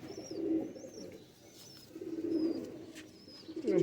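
Banded pigeons held for sale coo close by in soft, rolling phrases that repeat about every two seconds, with faint higher chirps in the background.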